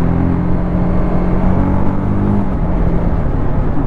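A TVS Apache 310 motorcycle engine heard while riding, a loud steady drone with a harmonic whine that shifts slightly in pitch, mixed with wind rush and no voices.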